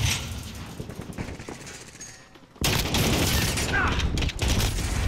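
Gunfire in the video game Call of Duty: Modern Warfare (2019), with dense bursts of shots, then a brief lull and a loud renewed barrage of rapid fire, while players talk over the action.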